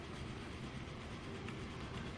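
An old train rumbling along in Transport Fever, a steady low engine drone with faint rolling clatter, continuous and fairly quiet throughout.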